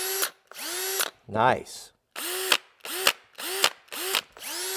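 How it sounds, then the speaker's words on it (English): A Milwaukee cordless drill runs in a string of short bursts as it tightens down, each whir ending with a gear rattle and clunk, loud and close, with a brief spoken word between bursts. "Listen to the Milwaukee. Let's tighten that up so we get the rattle."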